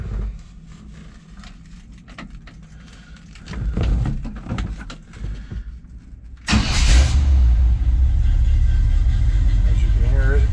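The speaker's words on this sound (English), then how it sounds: "We will go ahead and start it up" Quiet shuffling and handling noises give way to a restored 1972 Chevrolet C10 short bed pickup's engine cranking and catching, then settling into a loud, steady rumbling idle.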